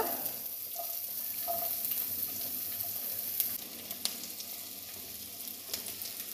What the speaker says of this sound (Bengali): এবার আমি এর মধ্যে পেঁয়াজ কুচিগুলো ঢেলে দেব